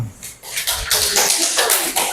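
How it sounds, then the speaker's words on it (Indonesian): A classroom group clapping hands together during a teacher-training session, a dense, steady patter of many hands that swells and continues for a couple of seconds, with some shuffling underneath. "Oke, tepuk tangan dulu"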